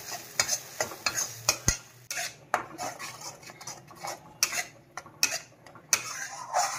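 Masala is being stir-fried (bhuna) in a pan for palak paneer, sizzling steadily while a spoon scrapes and taps the pan in a quick irregular rhythm. It is close and fairly loud, with no talking.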